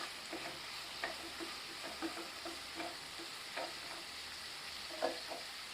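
Mint leaves sauté in a pan with a soft, steady sizzle, broken by a dozen or so light ticks and scrapes from stirring at an uneven pace, quiet and close with no talk.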